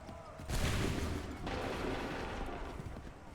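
A musket volley in Assassin's Creed 3 erupts as one loud, close crack half a second in, followed by a rolling rumble and a second burst, fading into battlefield noise.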